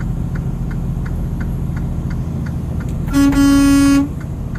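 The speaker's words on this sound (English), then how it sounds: "She was in a car next to me, and she had gestured her arm for me to blow my horn" A car horn gives one loud, sustained honk lasting under a second, close by, over a steady road and engine rumble with faint periodic ticking before it.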